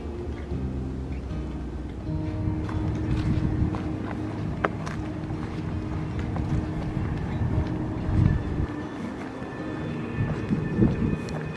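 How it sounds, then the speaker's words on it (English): A train rumbles by nearby in a steady low drone, with hiking footsteps crunching along a trail over it. "You can also hear a train nearby."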